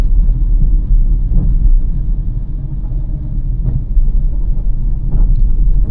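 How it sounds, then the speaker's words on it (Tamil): Car cruising slowly at about 30 on a road behind a driving school vehicle, a steady low engine and tyre rumble heard from inside the cabin, constant and fairly loud with no talk. "ஒரு ஸ்லோ ஸ்பீட்லேயே போகிறேன்"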